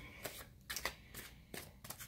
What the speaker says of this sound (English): we're gonna wait for a little more shuffling here